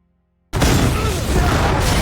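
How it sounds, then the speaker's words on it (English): A loud movie explosion as a hurled tank detonates in a WWII secret-weapon laboratory scene, bursting in suddenly after half a second of silence and roaring on as a dense, sustained blast with rumble and debris. "Boyce hurls a tank and triggers an explosion"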